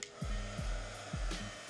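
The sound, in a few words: heat gun blowing hot air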